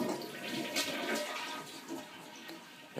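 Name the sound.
toilet being flushed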